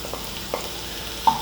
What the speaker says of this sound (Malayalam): അതോടെ ചേർത്ത് നമുക്ക് നന്നായിട്ട് വഴറ്റിയെടുക്കാം.